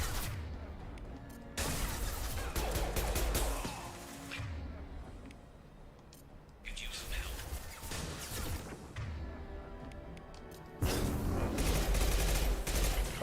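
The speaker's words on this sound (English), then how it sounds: "They're just shooting directly at him from down below." Gunfire in the video game Mass Effect 2, bursts of rapid shots and crashing impacts in loud clustered volleys separated by quieter stretches, with someone talking faintly under the battle.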